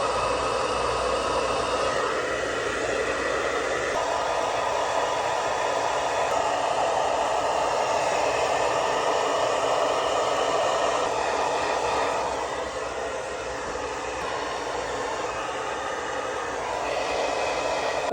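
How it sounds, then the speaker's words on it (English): A hair dryer blows on curly hair at close range, a loud, constant roaring whoosh that holds steady for the whole stretch and dips slightly as it moves, with no one talking. "I'm gonna start blow drying the sections out and then we'll continue styling."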